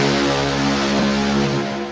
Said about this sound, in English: we sounded the ship's horn, which sounds like this